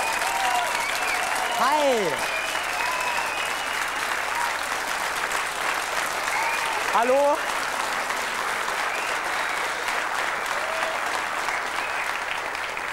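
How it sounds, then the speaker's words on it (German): Studio audience applauding at a German 1990s-style TV show taping, a dense, steady wash of clapping that fills the whole stretch while a host's voice calls out greetings over it. "So viel Applaus."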